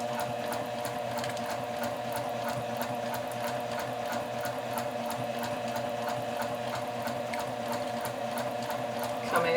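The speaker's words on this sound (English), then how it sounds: "move your fabric a little bit further into the machine, so you actually take your back tack on the actual fabric and stitch along the dart leg." A sewing machine stitches a dart leg on fabric, running in a steady, continuous mechanical whir with fast rhythmic needle clatter, close and even throughout with no talking.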